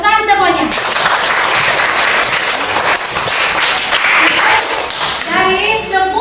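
A classroom of students claps for group presentations, a few seconds of loud, dense clapping framed by a teacher's voice talking just before and after it.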